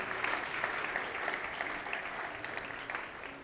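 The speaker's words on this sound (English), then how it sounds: "that deserves another round of applause" Wedding guests clap steadily through a ceremony, a dense and fairly even burst of applause without a break, moderately loud from a nearby audience.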